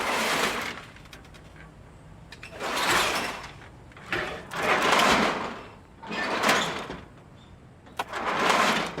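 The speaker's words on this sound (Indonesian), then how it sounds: "Sebuah pintu harmonika." A folding metal accordion gate is slid back and forth again and again, making about five rattling, scraping sweeps with short pauses between them.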